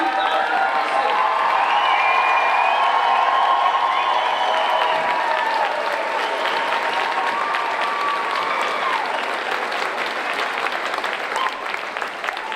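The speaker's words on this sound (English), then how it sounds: "please join me in a round of applause for Walton Central School's newest alumni, the graduating class of 2026." A graduation audience at Walton Central School applauds the graduating class of 2026: dense, sustained clapping and crowd noise that stays loud throughout, with a few cheers mixed in.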